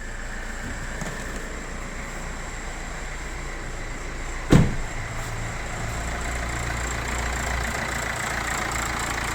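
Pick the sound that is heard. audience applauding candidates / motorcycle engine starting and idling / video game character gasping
motorcycle engine starting and idling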